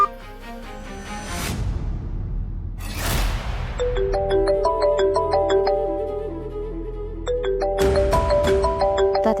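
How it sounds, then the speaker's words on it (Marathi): A phone ringtone plays a bright, repeating melody of chiming tones after a couple of whooshing swells, moderately loud and close, with no one talking. "तात्यासाहेबाचा फोन"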